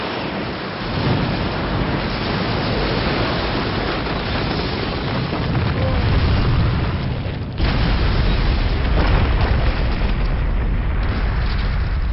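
A fire style jutsu explosion roars in an anime fight, a loud, sustained rumbling blast with a heavy low-end swell, a brief dip and then a renewed surge of booming.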